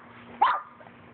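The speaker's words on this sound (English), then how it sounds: "stop barking" A single short, high yap from a German shorthaired pointer puppy, close by and sudden, with faint background hum before and after.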